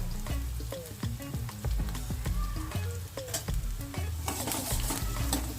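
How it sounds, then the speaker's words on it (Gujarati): Onions frying in hot oil with a little turmeric and ginger-chilli paste, sizzling steadily while a spoon stirs and scrapes the pan in repeated close strokes, with no voices. "સારી રીતે હલાવીને કાંદાને થોડાક એવા બ્રાઉન થવા દેશું"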